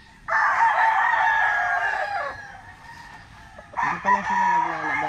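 Late-born gamefowl stags crow loudly and close by, one long drawn-out crow followed after a short pause by another rising crow, with faint background noise between calls and no speech.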